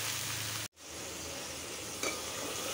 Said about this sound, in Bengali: এটা হলো পেঁয়াজটা ভাইজে নিচ্ছি তেলে।